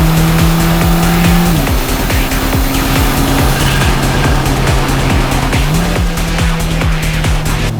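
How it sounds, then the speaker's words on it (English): Mercedes-Benz A45 AMG, an all-wheel-drive hot hatch, burbling and crackling from its exhaust after a paddle-shift downshift, a loud, continuous engine drone with rapid pops and pitch steps, close and with no talking. "Now, I've got paddle shifts and I've just downshifted,"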